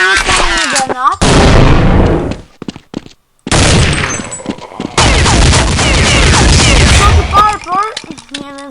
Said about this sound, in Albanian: Jemi vrarë nga prapa me një shotgun